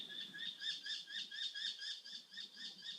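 Birds sing outdoors in a steady run of bright, repeated chirping phrases, mid-distance and fairly quiet over a faint low background hum.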